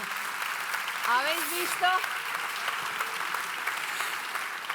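Audience at a science event giving sustained applause, moderately loud and steady across the whole stretch, while a speaker talks briefly over it.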